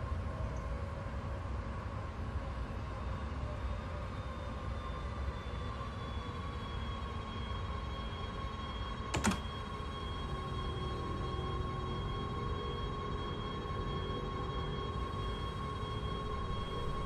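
A train passing at high speed along a Dutch railway line, a steady rushing roar with sustained whining tones that holds throughout, plus a brief sharp burst midway, with no voices.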